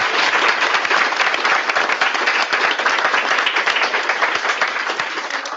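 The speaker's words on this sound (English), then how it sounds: "I'd like to give a huge round of applause." A seminar audience gives a panel of speakers on environmental law and policy a sustained round of applause, dense and steady throughout, with no voices over it.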